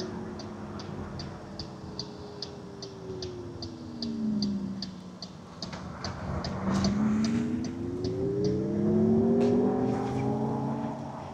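Wind rushing past an open MG Cyberster sports car while driving, with road and engine tones rising and falling in smooth sweeps and a steady faint ticking, like a turn signal, running through much of it.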